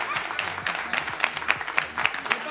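A live French show audience claps for the VAR, a moderate, fairly even patter of hands with a few sharper claps standing out and faint voices underneath.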